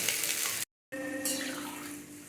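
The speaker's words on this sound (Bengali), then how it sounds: "কষিয়ে নেওয়ার পরে এবারে পরিমাণ মতো জল দিয়ে দিলাম" Water is poured into a pan of potato and pumpkin curry with soaked chickpeas, a steady rushing splash that breaks off briefly and then resumes, close and moderately loud.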